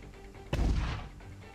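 A single heavy mortar shot booms in the Cepheus Protocol video game, a sudden deep thud with a rumbling tail that decays over about half a second against low background ambience.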